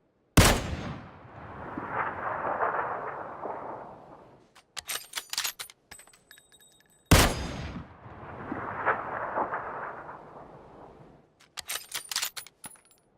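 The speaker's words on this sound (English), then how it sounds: "Just listen to the Kar 98 here." Two sharp Kar 98 rifle shots in a video game, each a loud supersonic crack followed by a long rolling echo and then a quick series of metallic bolt-action clicks.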